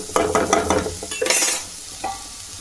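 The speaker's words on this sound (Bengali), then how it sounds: "একটু নেড়ে দিলাম" A spoon scrapes and stirs food seasoned with cumin powder in a sizzling frying pan, a quick run of close, rhythmic strokes over a bright hiss, then a last short scrape.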